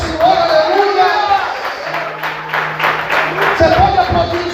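A church congregation claps and applauds steadily, the sound broad and sustained, while a preacher's amplified voice exclaims over it.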